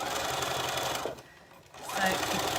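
A sewing machine runs steadily stitching straight rows on a summer skirt with an elasticated waistband, pausing briefly in the middle before starting up again at moderate loudness.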